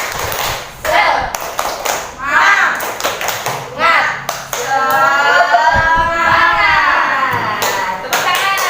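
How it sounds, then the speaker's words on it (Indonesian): A class of children does a rhythmic spirit clap in a classroom, sharp hand claps and taps in patterned bursts, with chanting children's voices joining in over the clapping near the end. "Mari kita melakukan tepuk semangat."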